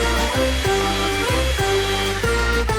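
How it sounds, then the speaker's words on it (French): A hair dryer blows steadily close by as it is used to melt cheese on food in a kitchen, its whine dipping and rising in short repeated passes. "Et on les fond un peu avec un sèche-cheveux."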